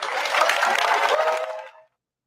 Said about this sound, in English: Gotta ask the question, what were they cheering for?